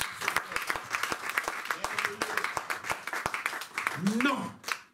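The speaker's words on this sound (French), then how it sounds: "Donnons une acclamation." A church congregation claps during a sermon, sharp distinct claps in a loose irregular rhythm, close and moderately loud, with voices calling out and cheering among them.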